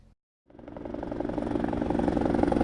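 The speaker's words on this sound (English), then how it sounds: "we suddenly heard helicopter motors getting louder and louder above Thula" After a moment of silence, a throbbing helicopter engine fades in and grows steadily louder overhead, above a sailboat in northern Spain.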